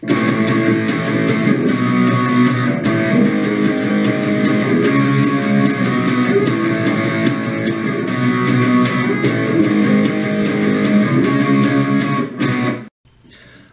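Electric guitar strumming the steady, driving pre-chorus chord progression of a song with a bright, crunchy tone, loud and continuous, then cutting off abruptly near the end.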